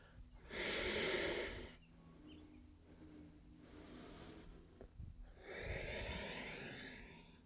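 Deep yoga breathing on a mat, with slow, audible inhales and exhales through the nose, two long strong breaths separated by quieter, softer breathing, close and unaccompanied by talk.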